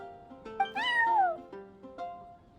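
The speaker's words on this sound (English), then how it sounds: "I'm sorry, that's my neighbor's cat." A neighbor's cat in the Genshin Impact video game meows in a drawn-out, wavering call, preceded and followed by shorter mews, close and clear with no voices over it.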